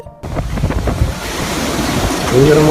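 Roaring wind and crashing waves of a cyclone in China fill the clip, a dense, turbulent rush that grows louder toward the end.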